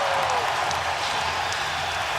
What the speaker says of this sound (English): And the Staples Center crowd in an early frenzy.